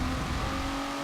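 Engine of a bone-stock Kia road car revving in the Forza 7 racing game, a brief, loud, sustained engine drone with a steady pitch over about one second, alone.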